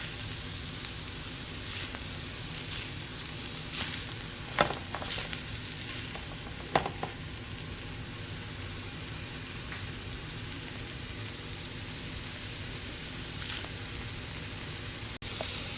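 Paneer fries in a hot pan over a flame, a soft steady sizzle with occasional brief clatters and scrapes, fairly quiet and even throughout.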